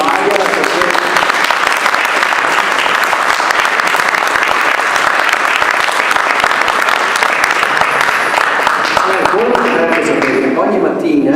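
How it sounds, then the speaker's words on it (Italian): Loud, sustained applause from a large crowd at a school gathering, many hands clapping continuously and densely for the whole stretch with no pauses. "Gli facciamo un applauso."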